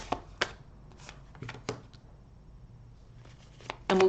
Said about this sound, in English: I'll pull some cards and we'll dive in